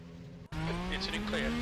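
A race car engine drones steadily in RaceRoom Racing Experience, its pitch rising slowly after a brief dropout, loud and continuous while a person talks over it.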